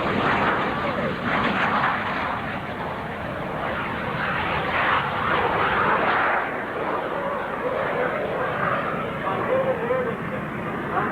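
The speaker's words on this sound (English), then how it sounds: "It is the Lockheed T-33, piloted by Dr. Ralph Brunko." Lockheed T-33 jet on its takeoff roll at an outdoor air show, a continuous loud engine roar and rumble heard through a public-address announcer talking over it.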